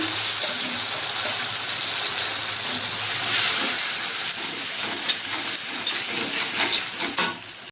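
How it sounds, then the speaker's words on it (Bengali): Grated tomato hitting hot oil, a steady broad hissing sizzle that flares louder midway and continues with crackling pops toward the end, close and without talk. "ওই তেলে আমি গ্রেট করা টমেটো দিয়ে দেবো"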